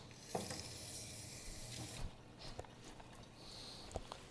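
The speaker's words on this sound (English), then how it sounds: "I'm gonna give these a good rinse." Celery stalks are rinsed under a running kitchen tap, a steady soft hiss of water splashing with a few faint clicks and knocks of handling, quiet and close, with no talking.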